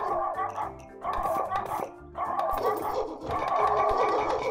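Dogs bark in the farming video game Весёлая ферма 3, with several bursts of yapping barks in quick succession, fairly close and moderately loud, separated by short pauses.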